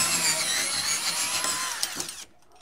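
A power drill running on slow speed backs an eye lag screw out of wood with a continuous whirring grind that stops abruptly near the end, close and fairly loud with no speech.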